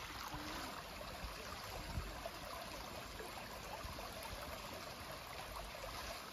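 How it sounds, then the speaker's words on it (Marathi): Shallow water streams and trickles steadily close by along a footpath on the Palpeshwar trek near Wai, Satara, a continuous gentle rushing with no voices. "हे असं पाणी वाहतंय बघा पूर्ण रस्त्यानी"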